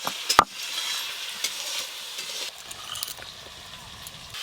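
Taro pieces stirred and frying in hilsa fish oil, a steady soft sizzle with a sharp utensil knock near the start and light scraping stirs through the rest.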